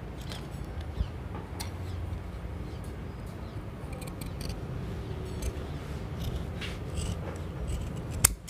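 Scissors cut through fabric for men's underwear, giving quiet, close snips and rustling cloth scattered across the stretch, with a sharper click near the end.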